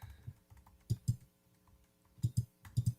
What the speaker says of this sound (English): Can anybody make out from the typing what keys those were?